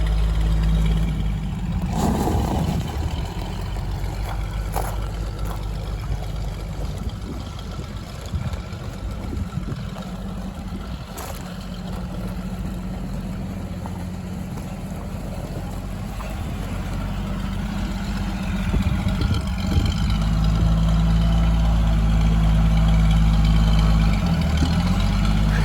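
A Ford Excursion's engine running as it drives in, a deep continuous rumble that swells and revs toward the end, with a few sharp knocks early on and no talking.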